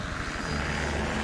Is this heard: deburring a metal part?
no